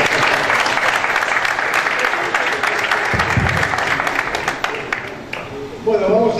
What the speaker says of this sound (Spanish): Bueno, aplausos.